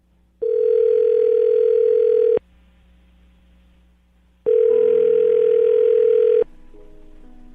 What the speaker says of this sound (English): I'm going to dial the phone right now, get her on the phone